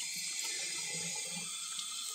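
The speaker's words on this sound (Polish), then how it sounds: "Woda leci ciepła dosyć." Warm tap water runs steadily into a sink for washing parts of a Makita GA5030R angle grinder, a soft continuous hiss with faint splashing and no voices.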